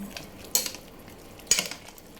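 A spoon clinks and scrapes twice against a pot of pork nilaga with potatoes and vegetables. The two strokes are close and separated by a short pause, with no talking.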